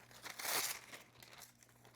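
A Stitch Fix package is ripped open by hand in one loud burst of crinkly tearing, followed by softer rustling and crumpling of the wrapping plastic.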